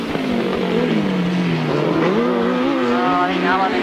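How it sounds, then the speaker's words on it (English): Sidecar engines at a 1993 grasstrack meeting at Maund McLeonards drone steadily and loudly, their rising and falling pitch continuous throughout while a commentator talks over them. "It certainly looks to be very, very quick, this sidecar racing this afternoon."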